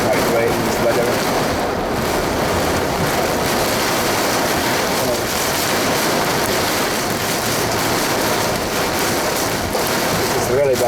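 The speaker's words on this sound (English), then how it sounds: "These gusts are strong." Strong storm wind gusts buffet a car on the A38 toward Derby, a continuous loud roar and rumble of wind against the microphone throughout the whole stretch.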